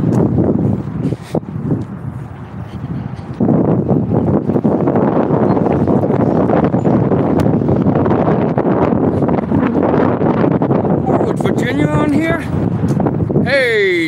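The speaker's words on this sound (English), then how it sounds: "It's a little windy, if you can hear." Strong wind buffets the microphone in a steady roar outdoors in Gatlinburg, with voices talking faintly underneath throughout.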